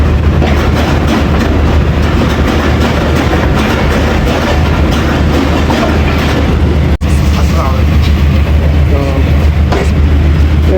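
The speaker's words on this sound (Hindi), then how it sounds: "गुजर खान से डिपार्ट कर रही है ट्रेन हमारी।" 13 Up Awam Express pulling out of Gujar Khan, heard from aboard as a steady loud rumble of carriages and wheels with faint clatter, one brief dropout partway through.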